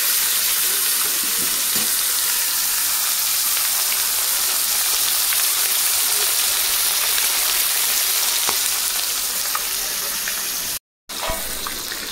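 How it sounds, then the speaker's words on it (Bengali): Fish sizzles in hot oil with a steady, dense hiss that holds loud and even throughout, cut by one brief silent gap near the end. "তেল গরম হয়ে গেছে, মাছ দিয়ে দেবো।"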